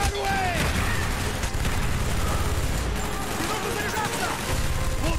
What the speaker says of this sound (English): did I say you could fire them rockets at me?